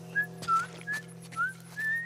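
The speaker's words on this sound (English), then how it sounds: "I'm whistling." A person whistles a short series of four or five rising and falling notes, clear and close, over a low steady hum with no talking.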